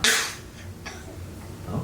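A special-needs baby gives one short, close cough followed by a softer breathy hack, quiet and brief with no talk.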